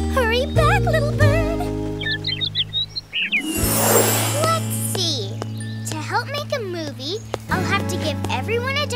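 A cartoon bird chirps and tweets in quick bright bursts, mixed with animated character voices talking and sustained musical tones underneath.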